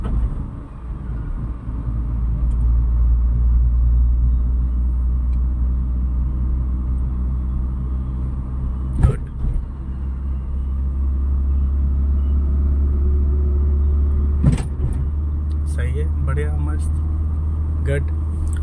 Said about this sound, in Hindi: अभी हम लोग कौन से गियर पे कार को चला रहे हैं मैडम?